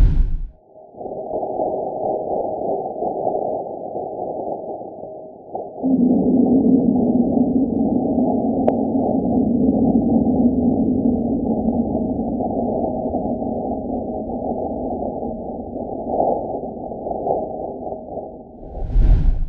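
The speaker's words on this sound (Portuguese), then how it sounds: "Vamos ouvir agora os dados sísmicos de um impacto de um asteroide de 200 toneladas" Sonified seismic waves from a 200-ton asteroid impact on the surface of Mars, a low, sustained, eerie droning rumble with whale-like moaning tones, swelling after a few seconds and holding steadily for nearly twenty seconds.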